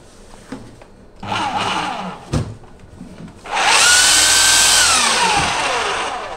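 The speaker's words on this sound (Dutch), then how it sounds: "Nou, ik pak een boor." A power drill runs loud and steady indoors in a rented building, a continuous whine that shifts pitch slightly as it works, after a few shorter bursts of handling and tool noise.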